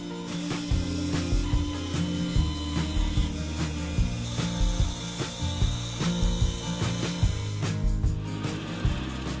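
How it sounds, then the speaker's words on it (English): A bandsaw whines steadily while cutting wood around a taped-on template, loud and continuous with a few small shifts in pitch as the blade works through the board. "cut it out roughly on the bandsaw"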